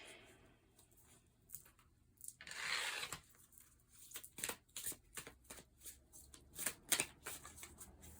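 Playing cards being shuffled in repeated short riffling bursts, close up, with soft handling sounds between them and no talking.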